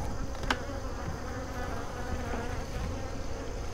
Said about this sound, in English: they basically swarm all over.